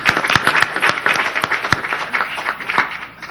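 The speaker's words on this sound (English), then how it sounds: "Let's give him a round of applause for" An audience at a public hearing of a state census commission in White Plains gives a round of applause, dense steady clapping from many hands at close range, lasting a few seconds before tapering off.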